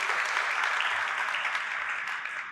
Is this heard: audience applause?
yes